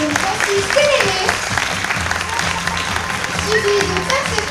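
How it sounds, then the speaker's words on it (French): A theatre audience applauds with dense, continuous clapping while a voice speaks over it. "Mesdames et messieurs, veuillez applaudir les enfants de Monsieur Tyran."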